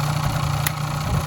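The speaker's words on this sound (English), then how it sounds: "Give it a rev." A motorcycle engine running in a shed holds a steady, close mid-pitched idle hum for a moment, with a single sharp click partway through.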